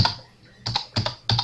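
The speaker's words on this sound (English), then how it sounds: "And then we'll put in a little bit of text." Typing on a slightly faulty computer keyboard: short bursts of crisp clicking keystrokes, two or three presses per burst, with brief pauses between, close and alone.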